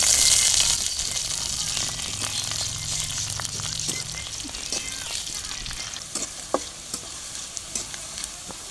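Bay leaf, cumin and spices sizzling in hot oil in a pan for a chicken and potato curry, a continuous loud frying crackle with occasional stirring scrapes and clicks, no voices.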